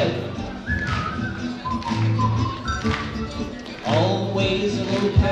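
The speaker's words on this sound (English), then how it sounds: "just purse your lips and whistle" Melodic whistling of a tune, clear sustained notes over light tapping and background sound, close and fairly loud.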